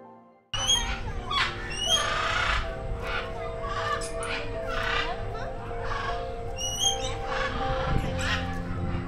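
Macaw and lory parrots at a mini zoo in a deer park squawk in loud harsh repeated calls, near and overlapping, over a busy background of people talking.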